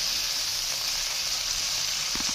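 Crushed white pepper, spices and ground coconut fry in a pot for chicken makhni handi, a close, steady sizzling hiss with no voices.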